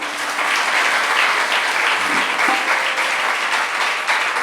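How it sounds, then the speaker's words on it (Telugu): A large audience claps steadily and loudly at a Sri Krishna devotional music concert at Shivam, Hyderabad, a dense, unbroken wash of applause filling all four and a half seconds. "ఎంత గట్టిగా కొట్టాలి చప్పట్లు."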